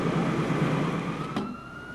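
An emergency vehicle siren holds a steady, fairly loud tone over a low rumble of traffic and ambient noise, in the setting of a transport accident involving radioactive material.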